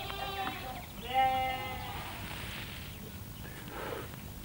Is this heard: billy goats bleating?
yes